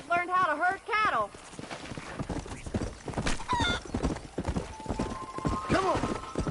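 Horse hooves clip-clop at a walking pace in the video game Red Dead Redemption, with a horse's whinny and speech over the hoofbeats.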